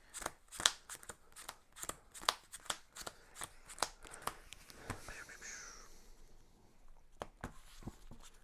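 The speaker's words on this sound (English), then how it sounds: "we'll shuffle our regular unit deck" Board game cards from a Mage Knight unit deck being shuffled on a table, a run of sharp riffling bursts in quick rhythm, then softer sliding and a few final taps, close and fairly quiet.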